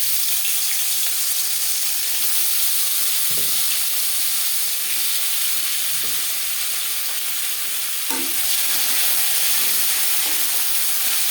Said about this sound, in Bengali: একইভাবে ভেজে নিন